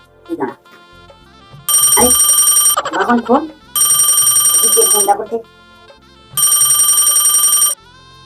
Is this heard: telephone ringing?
yes